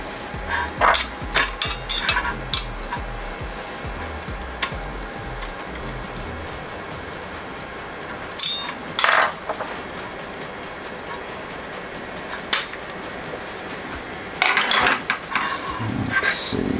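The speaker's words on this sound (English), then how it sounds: "Use a dead blow or tap all 4 sides flat." A Voron 2.4 printer's aluminum frame cube being tapped square with a dead blow mallet on a granite slab, bursts of sharp metallic knocks in quick clusters separated by quieter pauses.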